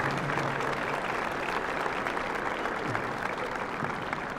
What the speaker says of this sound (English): I would like you to show them your gratitude with a large round of applause